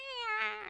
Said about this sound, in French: Puis elle a un miaulement très agréable.